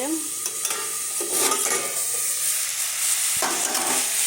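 Aloo chorchori, a potato curry, sizzling in a hot pan while a spatula stirs and scrapes it, a steady loud fry hiss with intermittent scraping strokes.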